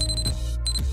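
A kitchen oven timer alarm sounds during roasting of vegetables, repeated high electronic beeps over a steady low hum, clear and close with no talk.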